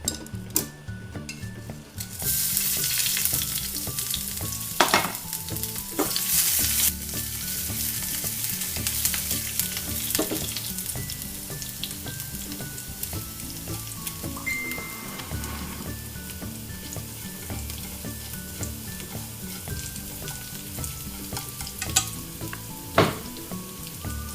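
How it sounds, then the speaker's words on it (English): Garlic and dry chili fry in hot cooking oil, a loud, continuous crackling sizzle with occasional metallic clinks and scrapes of a utensil in the pan; no speech. "Now add the cooking oil. Now I'm going to add garlic and dry chili."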